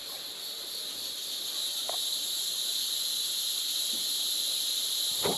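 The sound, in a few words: cicadas and bugs buzzing in a state park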